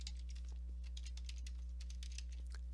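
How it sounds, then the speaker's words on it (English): Quick, light clicks of a computer keyboard as a presentation title is typed, a soft patter of keystrokes over a steady electrical hum. "I'm going to type in here City Hall Tour"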